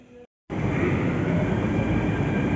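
A Mumbai metro train runs with a steady, loud rumble and rail roar that kicks in after a brief cut and continues unbroken.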